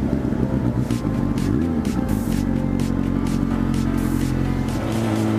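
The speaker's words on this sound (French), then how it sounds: "ça fait trop du bien de l'entendre à nouveau tourner là sur ces 4 cylindres" A four-cylinder motorcycle engine runs steadily up close, a loud dense rumble with a smooth throbbing idle and slight rises in revs, heard alone throughout.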